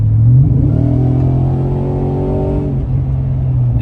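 Close, loud revving from a Ram TRX truck's engine and exhaust: the pitch climbs through a strong rev, holds, then drops back to a deep idle rumble, with no talk.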